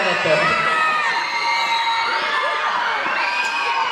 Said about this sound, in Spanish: voy a pedir si podéis gritar muchísimo